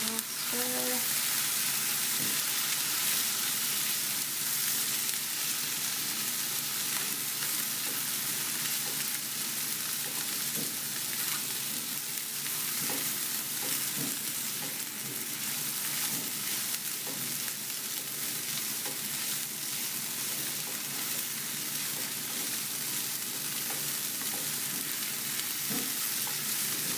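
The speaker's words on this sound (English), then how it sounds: "Give this a little stir." Homemade tofu breakfast scramble sizzles steadily in a pan for a long stretch, with faint scraping and clicks of stirring scattered throughout; a constant close hiss with no talking.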